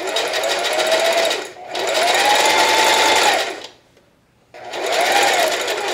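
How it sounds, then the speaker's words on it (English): Sewing machine stitching fabric for underwear, a loud steady mechanical whir in three long bursts separated by short pauses, close up with no talking. "I am super excited to actually be sewing today and off the computer"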